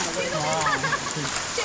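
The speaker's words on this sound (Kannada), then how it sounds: "ಮಳೆ ಜೋರಾಯಿತು ಮಳೆ ಜೋರಾಯಿತು ನಡಿ" Heavy monsoon rain pours steadily during a trek through flooded forest near Dudhsagar waterfall, a constant dense hiss close around, with people's voices talking over it.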